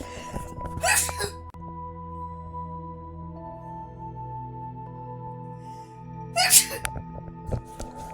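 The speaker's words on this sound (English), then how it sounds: "I had to sneeze." Two sharp sneezes, one early and one later, separated by a long quiet stretch with a faint electronic hum underneath.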